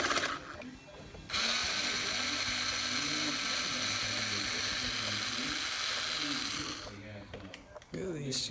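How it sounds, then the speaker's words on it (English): Steady fine ratcheting buzz of a tool backing screws out of an RC buggy wing on an 8ight-X, close and continuous for several seconds with brief pauses at either end. "Get these two screws out."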